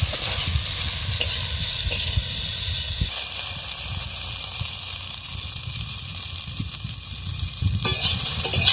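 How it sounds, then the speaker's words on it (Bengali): Egg-coated soybean chunks seasoned with salt and turmeric frying in mustard oil in a wok, a loud, continuous sizzle and hiss with occasional stirring scrapes and spatters, close up. "এবার আমি সয়াবিনটাকে ডিম মাখিয়ে রেখেছিলাম আর লবণ আর হলুদ সয়াবিনটাকে ভেজে নেব।"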